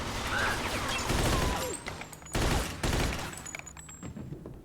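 World War II-era weapons fire in Mafia 2 in loud, close bursts of automatic gunfire with heavy booming shots. Sharp impacts and short gaps break up the volleys.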